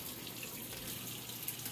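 Whirlpool direct-drive washer with hot and cold water inlet valves open together, fill water rushing as a steady, even hiss heard alone throughout.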